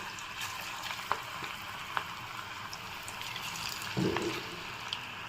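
Cabbage 65 batter frying in hot oil makes a close, steady crackling sizzle with scattered pops, and a brief bubbling swell near the end.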